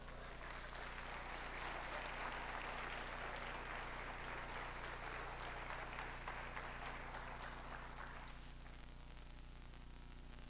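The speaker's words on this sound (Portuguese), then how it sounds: "Aplauda o Senhor." A church congregation applauding in praise, a broad, faint wash of clapping over a steady background hum that fades out near the end.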